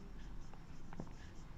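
A maths answer is written out by hand, a faint scratching of pen or chalk strokes over a low steady background hum.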